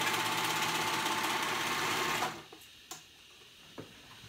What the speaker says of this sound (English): I'm going to sew that edge closed, and that's going to make it one continuous round.